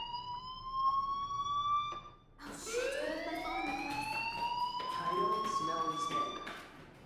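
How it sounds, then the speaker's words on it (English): Electronic fire alarm in the video game Life Is Strange, a rising, wailing tone that repeats in long sweeps, loud and steady with speech over it. "do you hear that fire alarm?"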